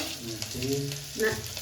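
Cumin seeds hit hot ghee for a kadhi tempering, a close, steady frying sizzle with scraping stirring sounds and no speech.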